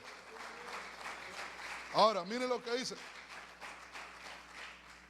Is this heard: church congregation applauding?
yes